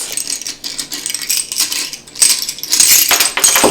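Small Dollar Tree sea shells tumble from a jar in bright, rapid clicks and rattles, loud and close, building into a denser cascade toward the end with no talking.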